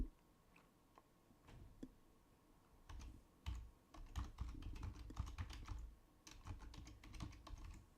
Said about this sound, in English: let's just click a little tab here, hit this button, and we're going to type in